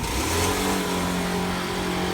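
A Kawasaki Z1000 liter-class motorcycle has its exhaust revved, giving a dense, continuous engine roar that holds loud and steady throughout, with no voices over it.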